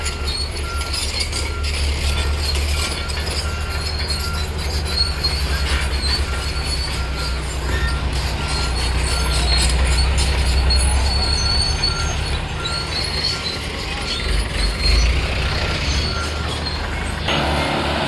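A train rolls along newly laid railway track near Kottapally–Manoharabad, with a steady low rumble of heavy wagons and faint metallic clinks and wheel squeal on top. The sound stays loud and continuous throughout, and nobody speaks.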